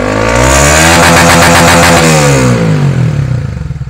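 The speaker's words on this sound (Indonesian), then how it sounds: "Ini kita coba, kita gas. Gas sampai limit ya." A Honda Sonic 150R / CB150R engine is revved hard and held at the rev limiter, a loud, close, buzzing roar that bounces against the cutoff before dropping back toward idle.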